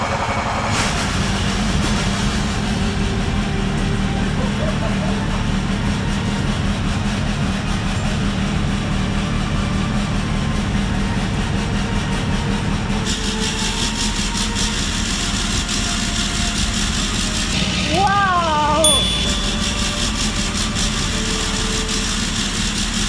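Rebuilt Range Rover 3.0 TDV6 diesel engine running, a constant close rumble with steady droning hum and faint high whine throughout, no speech.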